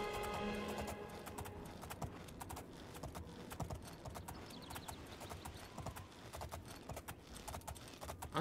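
A horse gallops in the video game Oblivion, rapid rhythmic hoofbeats thudding in a steady running pattern throughout, mid-level and continuous over a soft game background.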